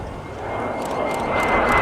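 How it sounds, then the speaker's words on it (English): An F-86 Sabre jet fighter heads back toward the airfield with a steady, broad engine roar that swells slightly louder over a couple of seconds, heard alone without voices. "just bringing the aircraft back in now"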